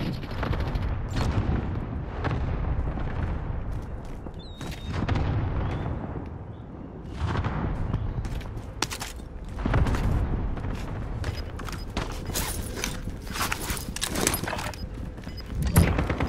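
Call of Duty: Modern Warfare combat, with bursts of rapid gunfire and heavy explosions that repeat over and over, loud and close, piling on top of one another.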